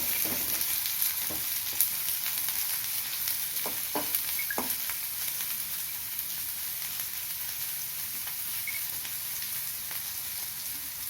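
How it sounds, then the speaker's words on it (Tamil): Chopped onions and popping mustard seeds fry in hot oil for Tamil spicy peas masala sundal, giving a steady, close sizzle with a few sharp crackles and stirring clinks, with no talking. "இப்போ 2 வெங்காயம் பொடியாக அரிஞ்சு வச்சு சேர்த்துக்கலாம்."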